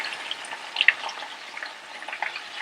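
Chicken simmers in a pan with mint leaves and chopped green chilies, giving a steady soft bubbling sizzle with small pops throughout, close and without talk.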